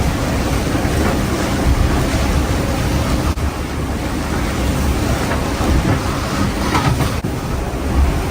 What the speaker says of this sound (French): Bel orage encore une fois.